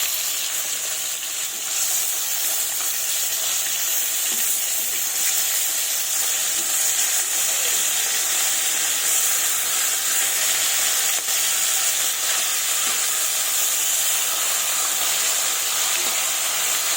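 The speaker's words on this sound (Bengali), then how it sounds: "তেল গরম হয়ে গেছে, এবার মাছগুলো ছেড়ে দেব। এইভাবে সবগুলো মাছ ছেড়ে দেবো তেলের মধ্যে।" Fish pieces frying in hot oil for a cauliflower, tomato and potato fish curry, a loud, steady, close sizzle and hiss lasting throughout with no talk.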